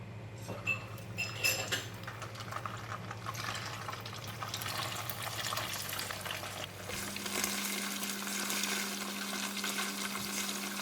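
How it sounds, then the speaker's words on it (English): Egg tofu frying in a pan of hot oil, a steady near sizzle with light clatter early on and a low hum running underneath, with no voices. "the oil is hot and I'm going to put in the tofu"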